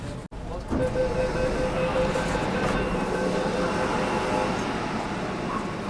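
Metro train ride from Sealdah to Esplanade, a steady rumbling roar of the moving carriage with a faint whining tone and rattling, heard from inside after a brief dropout near the start, with voices faintly mixed in.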